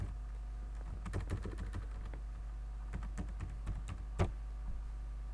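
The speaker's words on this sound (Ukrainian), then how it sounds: "пишемо там Іванка, наприклад" A name is typed on a computer keyboard in short irregular bursts of soft clicks and taps, with a sharper keystroke near the end, faint over a low steady hum, no speech.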